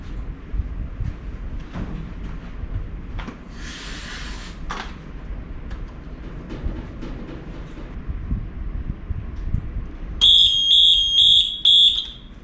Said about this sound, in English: Second stage alarm and the evacuate gas discharge signal.